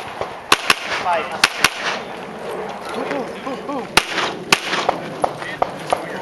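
Handgun shots crack at a USPSA handgun nationals match, sharp loud reports spaced irregularly, some in quick pairs, ringing out over outdoor crowd noise and a voice talking nearby.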